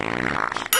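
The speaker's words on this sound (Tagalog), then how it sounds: "dahil kailangan nating umutot." A comedic fart sound effect in a funny meme compilation, a short buzzy, sputtering blast lasting under a second and ending in a sharp burst of noise.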